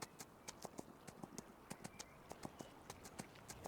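Horse hooves in Farming Simulator 25 clip-clop in a steady, quick rhythm, a regular string of crisp, faint hoofbeats with no talking.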